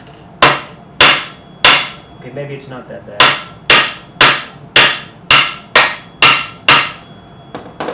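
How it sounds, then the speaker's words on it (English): A hammer strikes aluminum sheet in a steady series of about a dozen sharp, ringing blows, close and loud, with a brief spoken remark between strikes. "this is going to be really loud hammering on this thing"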